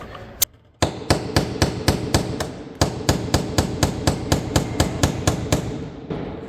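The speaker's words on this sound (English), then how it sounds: "That might work if you hammer." Rapid, evenly spaced hammer blows ring out on metal during a Saab 9-3 Aero fuel pump replacement, about four strikes per second, loud and close, with one brief pause near the start.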